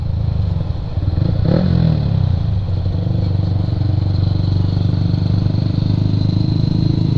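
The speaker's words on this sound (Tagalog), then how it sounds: "ayun pwede pa rev." A big bike motorcycle engine idles with a deep steady rumble and gives a brief rev near the start that rises and falls, then settles back into a close, constant idle.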